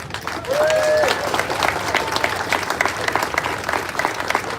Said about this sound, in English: A round of applause for the people that put this parade together.